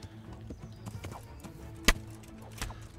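Horse hooves clopping in the medieval game Kingdom Come: Deliverance, with soft scattered steps over a low ambient bed and one sharp loud knock near the middle, then a quieter thud.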